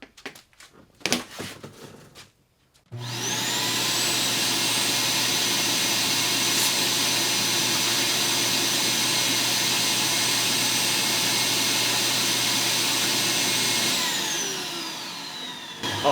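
A shop vac with long extension hoses starts up in a garage after a few handling clatters, then roars loudly and steadily with a high whine for about eleven seconds before winding down; no talking.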